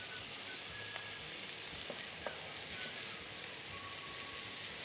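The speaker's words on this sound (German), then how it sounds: "das richtig schön lang anschwitzen, dass die Zwiebel gut durchgart." Onions sweating in a pan give off a steady, soft, dense sizzle with faint crackles and pops. It runs unbroken with no voices.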